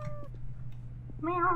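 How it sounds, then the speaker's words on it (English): Cat in a horror photography video game gives two meows, a short one at the start and a louder, rising one at the end, over a low steady hum. "there's another cat coming over here anyway"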